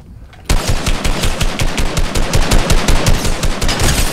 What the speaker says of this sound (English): now we're getting shot at